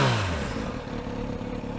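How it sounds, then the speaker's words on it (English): A Kawasaki Z900RS motorcycle engine runs close by with a steady, throaty idle-like rumble. It opens with a short falling rev and has no speech over it. "is the sound of the bike"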